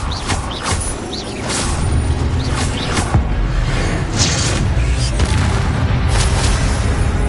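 Expelliarmus spell effects in Hogwarts Legacy on PS5: dense game audio of booming magical bursts and crashing impacts, several sharp hits over a continuous loud rumbling background.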